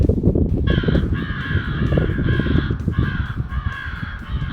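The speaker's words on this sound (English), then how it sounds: "So we're going to do a crow sound, and this is on volume 100." Repeated crow caws blare from a Primos Alpha Dogg electronic predator caller cranked to full volume, loud harsh calls in steady bursts over a constant low rumble of background noise.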